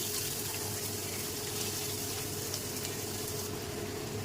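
Chopped onion frying in hot mustard oil, a steady, loud, even sizzle that holds without a break, with no voices.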